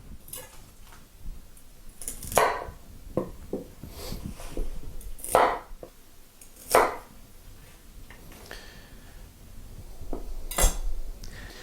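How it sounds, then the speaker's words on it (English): A knife cuts the leafy tops off beets on a cutting board, giving several sharp, separate chops and board knocks at irregular intervals, close and moderately loud, with faint clinks in between and no talking. "So what I'm going to do is just cut the tops off."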